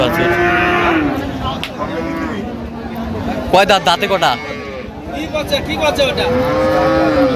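Cows and heifers at a rural cattle market moo loudly several times, with long, drawn-out calls close by while people talk over and between them.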